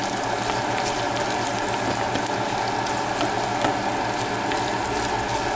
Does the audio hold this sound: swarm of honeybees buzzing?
no